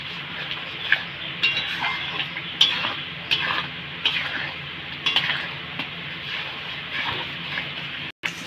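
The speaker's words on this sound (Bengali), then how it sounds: "এবার ভালো করে মশলাটাকে কষিয়ে নেব।" Spice paste with salt stirred and fried in a pan for a red chicken curry, a close continuous sizzle punctuated by regular scraping clinks of a spoon against metal.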